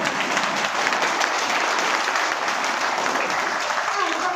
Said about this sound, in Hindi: पैसा के नाम पे बहुत ताली बज गया।